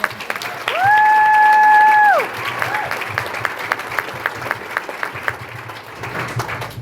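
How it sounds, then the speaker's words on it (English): Room full of people giving Jen a round of applause at a retreat, steady scattered clapping alongside a sustained electronic tone near the start, then settling into thinner, sparse claps. "So how about one more round of applause for Jen?"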